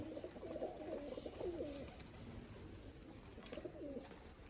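Low, throaty pigeon cooing in two rolling bouts, steady and fairly close, over a constant background hum.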